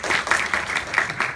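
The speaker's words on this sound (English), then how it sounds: "that really deserves a round of applause" At a student Toastmasters speech evaluation, a small audience claps in a steady, fairly loud burst of applause lasting just over a second.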